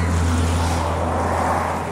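A bus passing along the street, a loud steady engine rumble and broad road roar that stays close and sustained throughout, with no talk.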